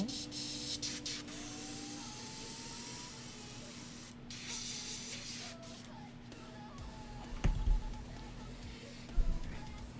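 Airbrush spraying paint onto a 1/16 scale figure, a steady airy hiss running through most of the stretch at close range, with a few brief knocks and handling sounds near the end.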